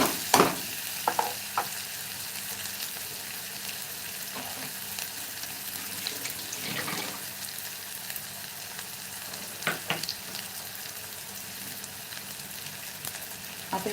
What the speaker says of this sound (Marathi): कांदा थोडाफार असं लालसर करून घेऊया एकदम जास्त ब्राऊन किंवा तांबूस रंगावरती परतायचं नाही आपल्याला कांदा